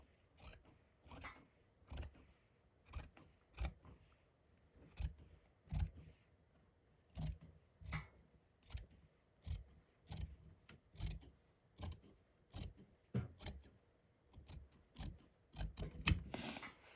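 Scissors snip through fabric being cut into a piece for a patchwork hoodie, a steady run of about twenty crisp, close cuts with short pauses between them and no talk.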